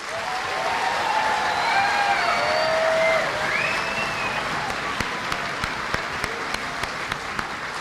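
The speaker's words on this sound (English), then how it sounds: "Let's give this group of outstanding soldiers another round of applause." A crowd applauds soldiers at a basic combat training graduation ceremony, dense sustained clapping that fills a large space, thinning to scattered louder claps toward the end.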